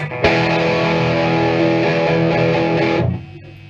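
A distorted electric guitar chord on an Ibanez rings out loud and sustained through a Krank Rev Jr amp, sweep control centered, into a Blackstar Celestion V30 cab for about three seconds, then is cut off abruptly.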